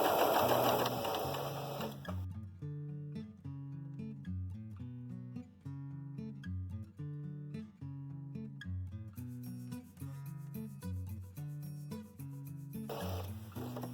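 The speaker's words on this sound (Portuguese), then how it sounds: "Eu vou alterar aqui a minha agulha para a esquerda, no 1. E aí, vou seguindo o pezinho de máquina." A sewing machine stitches a car trash bag in a steady, continuous mechanical whir, with background music playing throughout.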